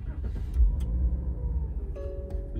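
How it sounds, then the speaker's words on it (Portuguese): Toyota Yaris 1.5 XL Plus with CVT starting up while parked in P with the handbrake on: a low engine crank and catch swelling into a steady idle rumble, with a faint whine and a brief tick near the end. "eu ligo o veículo."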